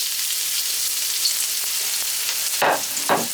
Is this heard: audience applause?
no